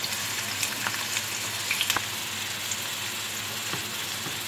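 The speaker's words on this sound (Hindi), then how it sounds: "बस इतना हम फ्राई करेंगे कि प्याज जो है सॉफ्ट हो जाए" Onions frying in oil in a frying pan for mutton stew, a steady hissing sizzle with a few light crackles and spoon taps, even and continuous with no voices.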